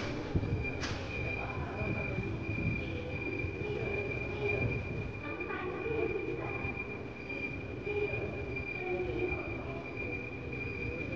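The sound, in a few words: airport vehicle ride to the luggage area in Thailand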